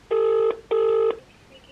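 A telephone rings on the line while a call is placed: two long, steady electronic ring tones with a short gap between them, clear and close, followed by quiet line hiss.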